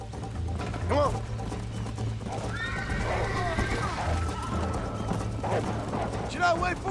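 A horse gallops and whinnies in the Western video game Red Dead Redemption, with hoofbeats clopping steadily beneath sharp, loud neighs near the start and end, while people talk over the action.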